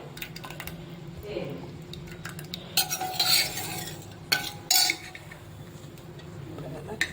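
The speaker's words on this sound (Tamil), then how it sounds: "கொஞ்சம் கொத்தமல்லி போட்டு ஒரு 2 கிண்டி விட்டுருவோம்" Green field bean curry gets a few brief stirs of a spoon in a pot, with soft scraping and a couple of louder clinks against the metal over a low background hum.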